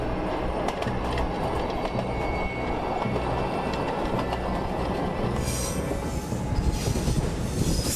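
A passenger train rolls through hills and valleys toward Montego Bay, Jamaica, with a continuous close rumble of wheels on track, faint clickety-clack and a rising metallic wheel squeal near the end.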